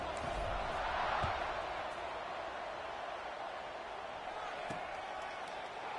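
Stadium crowd in a college football video game, Syracuse at Memphis, a constant broad murmur and roar of many voices, fairly distant, with a few thumps and a commentator's voice faintly under it.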